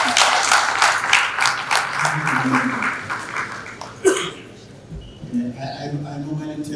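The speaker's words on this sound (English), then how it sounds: "You did give me a round of applause" An audience applauds a speaker at a Free State industrialisation indaba, with steady, fairly loud clapping over the first few seconds that thins out while a voice talks over it.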